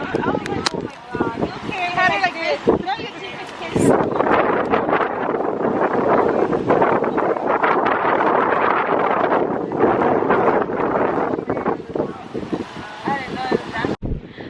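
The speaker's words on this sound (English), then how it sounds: "It's super windy, so I hope you can hear me." Strong wind at Lover's Island in Cabo buffets the microphone with a constant roaring rumble, while a voice talks underneath, partly muffled by the gusts.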